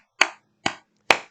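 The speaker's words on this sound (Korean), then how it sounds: "우리 하나님께 감사의 박수를 한번 올려드릴까요?" Three sharp, separate claps ring out in slow even succession at a church worship service, each crisp and close with a short decay and silence between.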